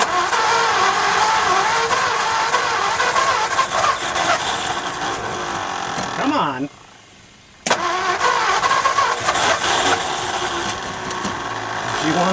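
A 1955 Ford F250 truck that has sat for decades cranks in long, loud, grinding bursts. After a brief silent pause, it resumes the same labored churning without clearly catching.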